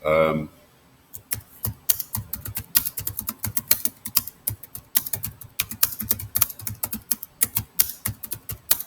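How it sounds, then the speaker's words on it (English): Fast, irregular clatter of typing on a computer keyboard, crisp close key clicks in quick bursts with short pauses, steady and moderately quiet. "Sorry for my typing skills, which are terrible."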